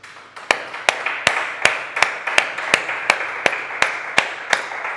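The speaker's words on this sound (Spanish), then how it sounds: "Dale un fuerte aplauso a Cristo Jesús." A church congregation claps in a steady, even rhythm: about a dozen sharp, evenly spaced claps over a faint room background, with no talking.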